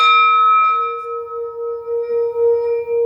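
A Tibetan singing bowl held in an open palm is struck once, giving a clear, loud ringing tone with steady overtones that sustains and slowly fades over a few seconds.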